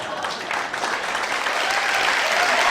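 An audience applauds after a spoken performance, a dense, steady wash of clapping that holds strong and swells slightly toward the end, with no voices over it.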